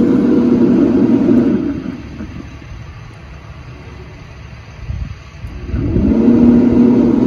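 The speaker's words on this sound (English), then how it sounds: "You probably noticed the blower cycling off and on." A Bullseye pellet grill's blower fan hums loudly and steadily, drops to a quiet lull for a few seconds, then starts up again at full strength.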